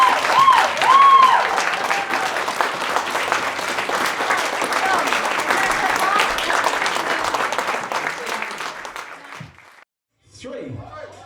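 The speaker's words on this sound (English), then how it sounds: "would you like to give them another big round of applause" Wedding guests give a big, sustained round of applause after the speeches, dense and steady clapping with cheering voices underneath for about nine seconds before a brief pause and renewed noise.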